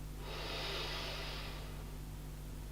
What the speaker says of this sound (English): I'm breathing in.